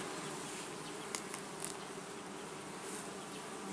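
A dense swarm of honey bees drones steadily at an opened beehive during a honey harvest, a continuous close buzz with a few faint clicks and ticks scattered through it.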